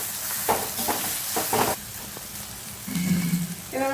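Ground spices sizzle in a pan with ginger, garlic and onion for a mushroom dish, a steady hiss broken by several scraping stir strokes and a few short clinks near the end.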